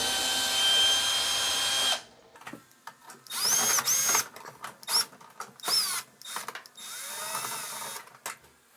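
A power drill runs steadily for about two seconds while backing screws out of a Kenmore Whirlpool washer panel, then stops, followed by short bursts of drilling and screw clatter, with a high whine rising and falling between pauses.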